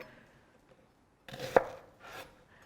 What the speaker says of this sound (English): we just want to get a coarse chop on the onions